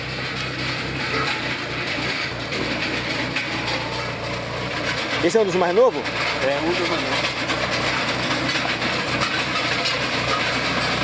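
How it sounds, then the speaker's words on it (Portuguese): A farm tractor heading out to harrow fields gives a steady, droning engine rumble that runs through the whole stretch, with a short clattering swell midway, beneath people chatting in Portuguese. "Dá para vocês ouvir o barulho já do trator chegando."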